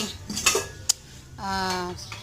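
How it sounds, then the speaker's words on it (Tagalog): Metal cookware clatters and scrapes as a frying pan and cooking pots are cleaned, with a few sharp clinks and a ringing scrape, fairly close and without talk. "Ngayon, linis ako ng kawali, kaldero, tsaka kalderin."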